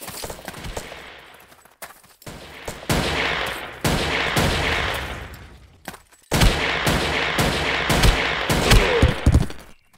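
Rapid bursts of gunfire crackle in dense volleys in the video game Ace of Spades, with brief pauses between clusters of shots, loud and continuous over a busy battle din.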